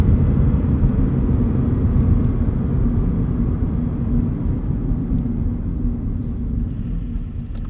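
A 2022 Subaru BRZ with a 4.3 rear differential accelerates in second gear on a wet road, its engine a steady loud low rumble that holds constant throughout.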